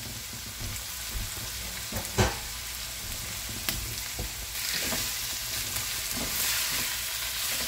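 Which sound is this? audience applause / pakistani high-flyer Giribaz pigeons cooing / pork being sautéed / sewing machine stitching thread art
pork being sautéed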